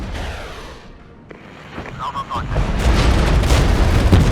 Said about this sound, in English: I'm going to drop some artillery on these dudes.